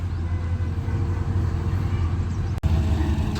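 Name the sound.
thresher vehicle engine running after starting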